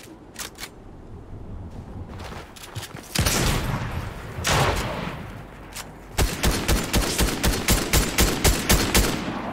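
Assault rifle fire in a shooter game: a few scattered shots, then heavier bursts, and finally a rapid steady string of loud, evenly spaced automatic rounds.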